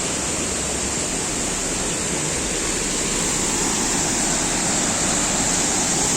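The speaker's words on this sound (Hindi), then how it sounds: "तो ये है यहाँ का वाटरफॉल। फ्रांस का वाटरफॉल देखिए।" A waterfall in Nice, France pours in a loud, unbroken rush of falling water, a dense steady roar heard close and on its own without any voices.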